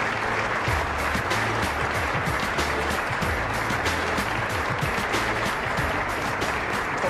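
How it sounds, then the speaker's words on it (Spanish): Steady applause for Rodrigo Amador fills the room at a formal gathering, dense continuous clapping at even volume throughout, with a low rhythmic music bed running underneath. "Quiero pedir un aplauso para él,"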